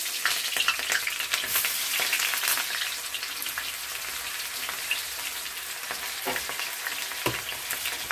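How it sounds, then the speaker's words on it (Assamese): Chopped onions sizzle steadily in hot mustard oil in a clay kadai, a dense, bright crackle that runs throughout with occasional sharper pops and scrapes of stirring, close and fairly loud with no voices. "তো ইয়াতে মই কাটি থোৱা পিঁয়াজখিনি এড কৰি দিছোঁ।"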